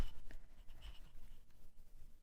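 Faint scratching of a Kuretake Zig Cartoonist Mangaka flexible pen with a small plastic nib moving across paper, soft irregular strokes close by in a quiet room.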